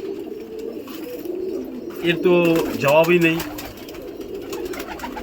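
Champion pigeons coo in low, rolling calls throughout, swelling louder mid-way, while someone speaks over them close by.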